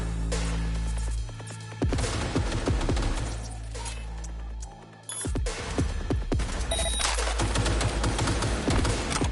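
Dense, loud gunfire in Cyberpunk 2077 rattles in rapid bursts, with a short lull before the shooting resumes and carries on continuously under booming low rumble.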